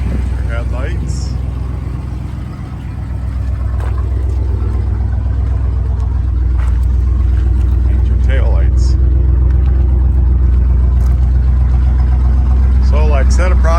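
A 1986 Chevrolet C10 project pickup with a 305 V8, 5 liter, runs steadily at idle with a smooth low rumble throughout. Several people talk over the engine now and then.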